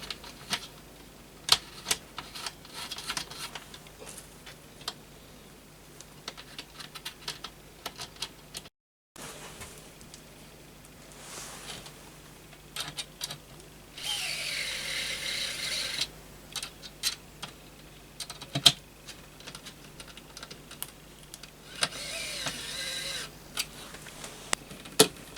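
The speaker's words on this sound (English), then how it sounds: "just put those screws through the hole and tighten all those up" Screws being tightened into the aluminium lip of a solar panel for a YOBOLIFE LM-3606 lighting set, heard as scattered close mechanical clicks and ratcheting ticks with short bursts of rasping, no talk.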